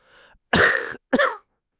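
Three harsh, deep coughs in quick succession, the first softer and the next two loud and close.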